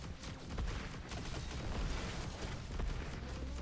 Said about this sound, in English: Everything's exploding.